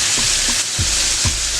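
Bacon sears in a hot pan with a loud, continuous sizzle and a few soft, regular thumps underneath.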